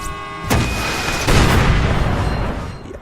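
A loud boom from the Crackdown video game hits at once and is followed by a second blast, both rolling into a long, heavy rumble that fades away.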